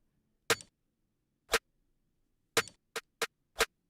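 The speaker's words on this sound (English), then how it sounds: "I got that little beep under the other snare." An electronic snare hit layered with a small beep underneath, heard as six short, sharp, isolated hits spaced unevenly over a few seconds, dry and fairly quiet with silence between them.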